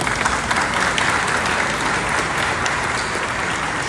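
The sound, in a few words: assembly applause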